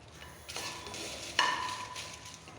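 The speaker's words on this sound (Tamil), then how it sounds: "மிளகாய் அது மாதிரி சூடேறி பொரிஞ்சு வரும்போது இறக்கிடலாம்" Dry red chillies are stirred and roasted in a dry pan, giving soft scraping and rustling strokes with one sharp metallic clink of the pan midway, over quiet background noise.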